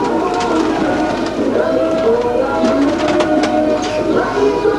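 Close, loud, dense cooing from a loft of Macedonian donek pigeons, with several birds' rolling calls overlapping steadily throughout.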